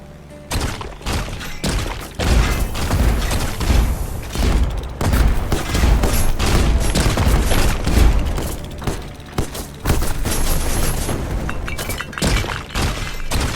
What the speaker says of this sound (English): I have not actually even tried to destroy one of these larger ships. With the use of the swarm weapons.